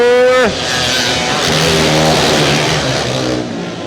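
Karts in an Open Kage Kart main at Salem Indoor Speedway roar past on the green flag, engines revving and accelerating with a sharp pitch drop as one passes close, then a sustained mixed engine drone under a faint announcer's voice.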